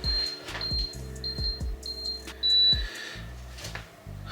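A household appliance that has just started its cycle gives short, sharp electronic beeps in an irregular series, fairly close, with clunks and rattles of handling around them and no talking.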